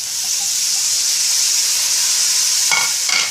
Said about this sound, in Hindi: ये मसालों के साथ ये भिंडियाँ भुनेंगी।